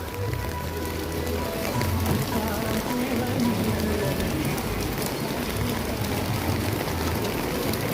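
Steady rain pours onto a street in Singapore opposite a supermarket, a dense continuous patter and splash with a low rumble of passing traffic beneath, no speech.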